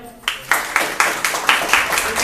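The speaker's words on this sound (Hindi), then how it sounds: "एक बार जोरदार तालियां हो जाए" Audience applause at an award ceremony for sports: a steady burst of clapping from a crowd in a hall, moderately loud, with even rhythmic peaks and no talk over it.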